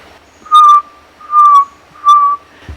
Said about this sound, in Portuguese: O macuco ele tem um assobio só, no dia a dia.